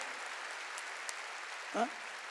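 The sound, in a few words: audience clapping harder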